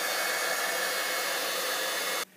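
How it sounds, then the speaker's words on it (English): An embossing heat tool dries a mixed-media art journal page with a loud, steady blowing whir like a hair dryer, running alone without speech before cutting off abruptly near the end. "So now I'm going to take my heat tool and I'm going to dry it."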